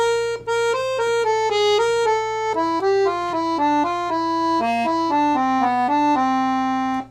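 A 120 bass accordion plays a phrase: a clear, reedy melody of stepping notes over a sustained low bass drone, close and steady, with no talking.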